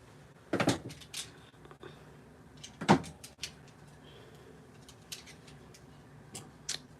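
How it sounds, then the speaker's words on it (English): Sharp snips of scissors cutting scrapbooking paper, a few scattered cuts with quiet pauses and light handling noises between them. "We are going to use a pair of scissors."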